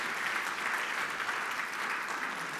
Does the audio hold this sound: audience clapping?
yes